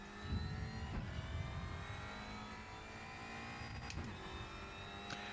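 Race car engine from the RaceRoom racing game, a steady mid-pitched drone with gear-change revs while running laps on track, heard alone with no talk.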